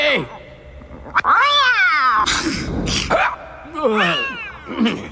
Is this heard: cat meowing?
yes